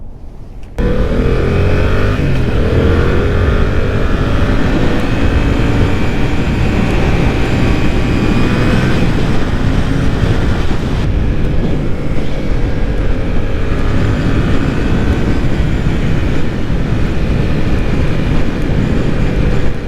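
A Yamaha MT-07 motorcycle rides through a city, a steady, close engine drone with rising and falling pitch from gear changes, mixed with constant wind rush and no talking.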